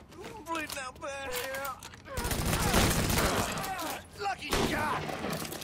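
A gun fired repeatedly in Mafia 3, a loud sustained burst of shots following a voice, with more talking mixed in over the later gunfire.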